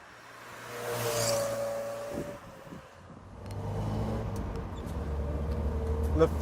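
A 1978 MGB rubber bumper roadster pulling away and driving, its engine note rising and falling through the gears, close and growing louder, with someone talking over it at times.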